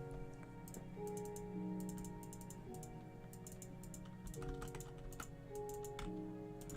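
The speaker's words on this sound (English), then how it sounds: "I'm typing up my argument because I want to sum it up perfectly." Typing on a computer keyboard, a steady run of close, quiet clicks and taps over a low background hum, with no talking.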